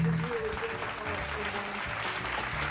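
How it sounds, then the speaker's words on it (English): Steady crowd applause with dense, even clapping that holds at a moderate level for a few seconds, with a faint voice underneath, inserted during a magic act. "Insert applause."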